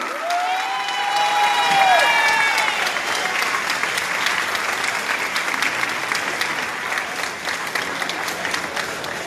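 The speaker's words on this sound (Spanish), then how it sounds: "Vamos a invitar a la presidenta del DIF municipal, Paulina Cortés, para que pida un fuerte aplauso." A large crowd at a campaign closing rally for a municipal candidate in Villa de Álvarez gives loud, sustained applause with scattered cheers, and a voice rings out over it at the start.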